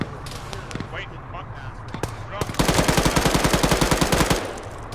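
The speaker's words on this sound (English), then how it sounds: "I shot him, but he's not down." Automatic gunfire in the video game ArmA 3, with scattered single shots at first, then a loud rapid burst of evenly spaced rounds for about two seconds, over a background of game ambience.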